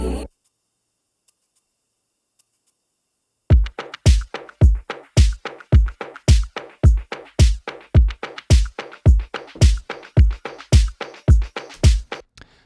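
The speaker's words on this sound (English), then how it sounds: "So the whole groove sounds like this" Remix groove of a pop song: after a brief hit and about three seconds of silence, a steady, loud, punchy beat of evenly spaced percussive hits with crisp high-passed clicks repeats for the rest of the clip, with no voice.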